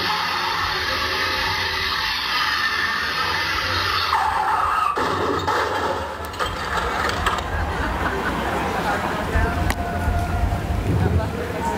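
A car skidding effect plays over a loudspeaker during a New York State Police SCUBA exhibit: long squealing, grinding noise with rattling mechanical bursts, while a presenter talks over it outdoors.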